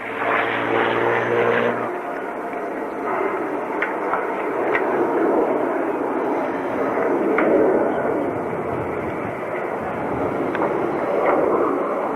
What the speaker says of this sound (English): Just taking off here, the pair of piston forwards, and the Spitfire sneaking up rapidly between them, pulling up.